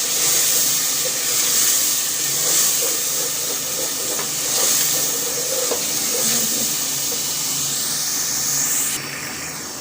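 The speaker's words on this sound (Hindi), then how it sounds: "मसाले में हमने थोड़ी मिकदार में जो है पानी ऐड किया है।" Water poured into frying spice masala for black chickpeas sets off a steady, loud hiss and sizzle that lasts throughout, easing slightly at the end.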